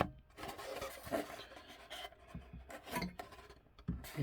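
A wooden clock box from a 1970s Seiko time-dater clock being sanded by hand: quiet, uneven rasping strokes in short bursts with small pauses, close up and with no talking.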